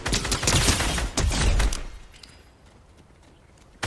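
An Excalibur rifle fires in Fortnite, a loud, dense run of shots with impact noise over the first two seconds, then quiet game ambience and a sudden sharp hit at the very end.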